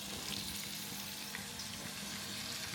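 Onions fry in a pan for a beef roast masala, a steady dense sizzle that stays loud and constant throughout, with no talking.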